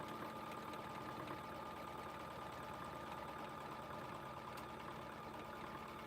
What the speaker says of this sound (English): So all it's doing is stitching now the outline to tack down this fabric to the frame.